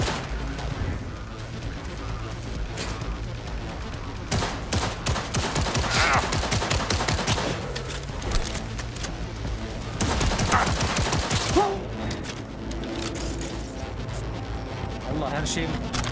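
Rapid automatic gunfire and scattered shots rattle through a Cyberpunk 2077 street fight in bursts, loud and close, with voices talking over the shooting.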